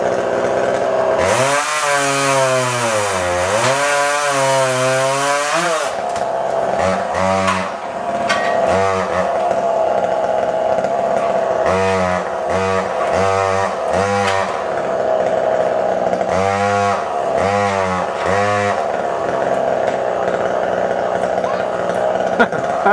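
A chainsaw cutting a tree roars loudly up close, revving in long swells and then in a series of short repeated bursts with brief idling gaps between them.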